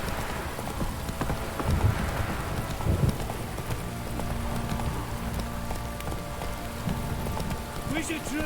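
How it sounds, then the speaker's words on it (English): Heavy downpour in The Witcher 3 video game, a steady wash of rain over horse hooves clip-clopping, with a voice and other sounds over it. "This downpour's a Faster."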